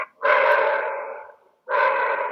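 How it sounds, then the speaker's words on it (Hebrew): Dogs at a dog training class bark in two long, loud bursts separated by a short pause, heard up close with no talk. "אתה שומע את הנביחות ברקע?"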